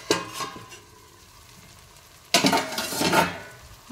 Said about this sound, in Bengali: 10 মিনিট পর আমি ঢাকনাটা তুলে আমি তোমাদের দেখাচ্ছি যে কেমন হয়েছে।